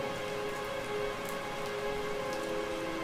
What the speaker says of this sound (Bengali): মন্দিরের ছাদের ওপর ঝমঝম করে